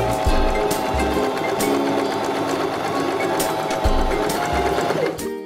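A Janome 523H sewing machine stitches a buttonhole with a loud, continuous rapid whirring and needle clatter at close range. The speed shifts slightly and the run stops abruptly near the end.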